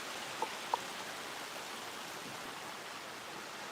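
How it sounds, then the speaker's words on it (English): A creek runs steadily outdoors, a constant broad rush of flowing water. Two faint clicks sound near the start. "There's a creek running behind me."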